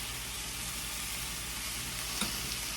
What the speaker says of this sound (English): Give this another quick mix.